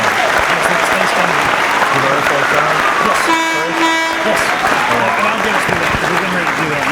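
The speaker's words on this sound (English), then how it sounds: "can give them a round of applause as well." An audience at an Air Force fighter wing promotion ceremony applauds in a dense, continuous clatter of clapping, with a brief tonal horn-like sound cutting through midway.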